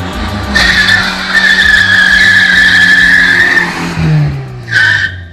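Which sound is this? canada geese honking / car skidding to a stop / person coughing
car skidding to a stop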